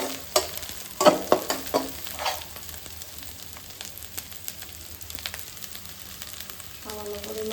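Ginger and garlic sauté in a pan with a low, continuous sizzle, punctuated by loud spatula clanks early on and lighter scraping stirs afterward.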